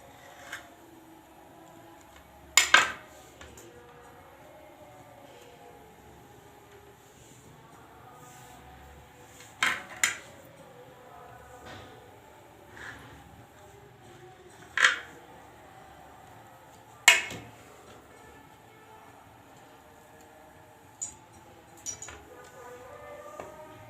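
A knife cuts through filled sandwich slices to shape them, giving a few distinct, well-spaced clinks and taps against a plate or board, close and clear over a quiet background.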